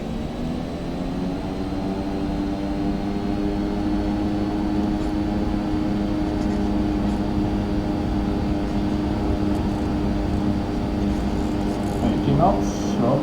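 EPIC E1000 turboprop in X-Plane 11 building power on the takeoff roll, a loud steady drone with layered harmonic whine holding throughout, plus a brief rattle near the end.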